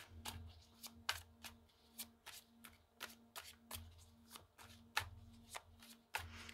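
A deck of tarot cards is shuffled by hand in a quiet room, a run of soft riffling bursts repeating at a steady, slightly uneven rhythm, close and clear with no talking.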